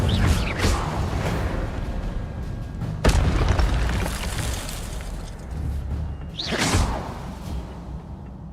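Fire spell bursts in the video game Hogwarts Legacy, loud whooshing blasts over a continuous rumbling game soundscape, one sharp burst midway and another flaring swoosh near the end, with no talking.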